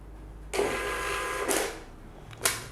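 An Epson receipt printer prints in short mechanical bursts, a longer buzzing run followed by two brief feeds, loud and close with no talking.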